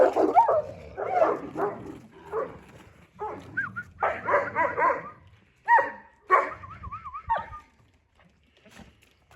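A dog barks repeatedly in short yipping bursts mixed with whimpers and whines, fairly close and loud, the barks coming in an uneven rhythm over several seconds.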